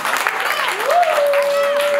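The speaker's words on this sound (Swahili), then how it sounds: "Hebu jipigieni makofi." Congregation clapping at a church fundraising service for a house of God, a steady wash of applause with a sustained tonal voice or note rising over it in the second half.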